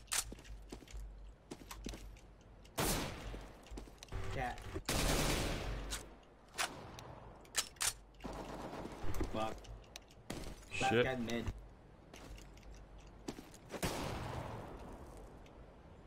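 Gunfire in the video game CS:GO, heard as bursts of loud shots spread across the stretch with footsteps and quieter gaps between them, while players talk over the action.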